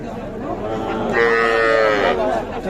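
Calves mooing at a cattle market, a single drawn-out nearby moo that rises and holds for over a second above a low crowd murmur.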